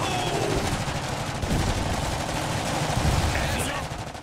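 Sustained machine gun fire in the strategy game Iron Harvest, dense rapid bursts layered over battle noise and explosions, loud and continuous throughout.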